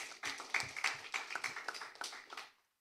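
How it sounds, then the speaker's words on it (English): An audience at a secondary school debate applauds the panel of judges, a fairly small group clapping with distinct, uneven hand strikes that trail off and stop abruptly. "Please give our panel of judges a word of applause"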